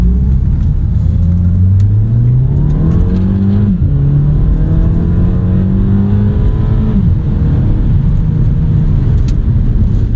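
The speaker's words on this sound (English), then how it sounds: "it really brings it all the way out to red line" A 2008 Audi A3 with a dual-clutch gearbox accelerates hard in sport mode toward redline, its engine note climbing in rising sweeps with quick dips at each gear change, loud and continuous throughout.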